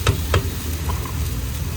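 Spices sizzle in hot oil for tempering with a steady crackling hiss, interrupted early by two sharp clinks of a spoon against the pan.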